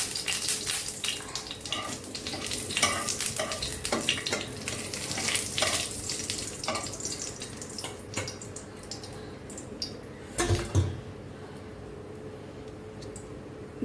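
Cinnamon and cardamom sizzle in hot oil for a Bengali chal potol dish, with crackling bursts that are dense early and thin out, plus a brief clatter of stirring near the end.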